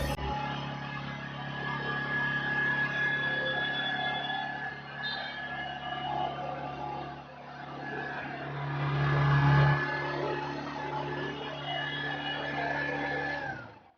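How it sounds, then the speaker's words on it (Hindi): A small Bajaj Platina 110 motorcycle engine idles and hums continuously through its exhaust, with a brief rise in revs partway through, heard close and steady throughout. "इसके एग्जॉस्ट साउंड को भी मैं आपको सुना देता हूँ"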